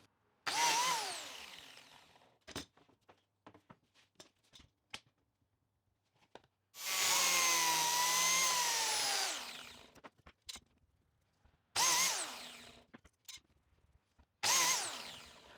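A power sander takes down small wooden joining biscuits in short whining bursts with one longer steady run, separated by quiet gaps with small knocks and handling clatter.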